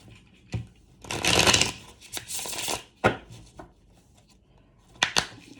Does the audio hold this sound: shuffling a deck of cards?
yes